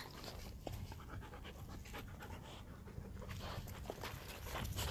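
Several dogs pant close by in quick, continuous breaths, with faint rustling and shuffling at a Halloween store photoshoot; no voices.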